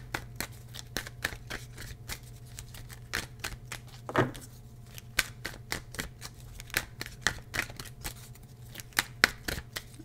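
Tarot cards being shuffled in quick, crisp riffles and taps, a steady run of sharp flicks close by with brief pauses.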